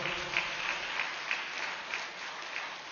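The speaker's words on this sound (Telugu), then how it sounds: "శ్రీనివాస్ గారికి గట్టిగా చప్పట్లు కొడదాం" Continuous crowd applause fills a lecture hall, many hands clapping evenly at a moderate level, with a few sharper individual claps standing out and no speech.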